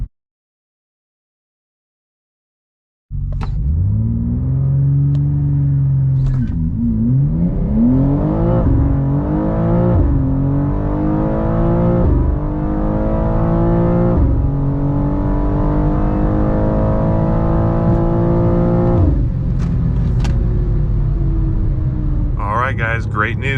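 A tuned BMW G87 M2 pulls hard from 60 to 130 mph, its engine roaring loudly and close with rising revs broken by quick upshifts, then a brief lift near the end.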